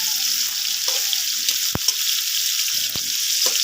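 Food frying in a pan keeps up a steady, loud sizzle throughout, with a few sharp utensil clicks and scrapes standing out briefly above it.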